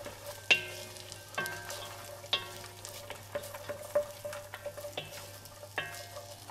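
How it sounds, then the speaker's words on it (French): Crab curry ingredients with onion sautéing over high heat in a pan, a close steady sizzle broken by repeated sharp spatula scrapes and stirring clanks at an uneven rhythm, with no voices. "On va faire revenir sur un bon feu"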